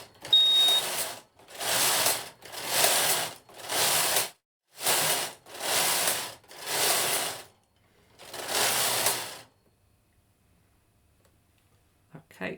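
A home knitting machine carriage sweeps back and forth knitting rows of yarn, eight loud whirring, clattering passes of about a second each with short pauses, then the machine falls silent.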